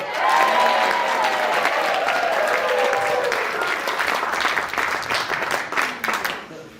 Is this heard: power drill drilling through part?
no